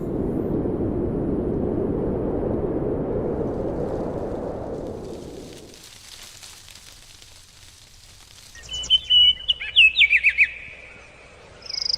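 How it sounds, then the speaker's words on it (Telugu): Bright, quick bird chirps and tweets burst out near the end, following a long stretch of steady low rushing noise; no one speaks. "చెట్టు కొమ్మపై ఆడే పిట్ట, పాటలన్నీ పాడే పిట్ట"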